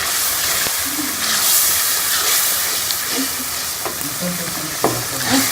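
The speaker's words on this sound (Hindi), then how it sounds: "इसके अंदर मुसलसल चम्मच चलाते रहें और इसको इनके लिए अच्छी तरह से भून लें।" Egg curry masala fries in ghee, a loud steady sizzle and hiss with a spoon scraping and knocking against the pan at irregular intervals, up close.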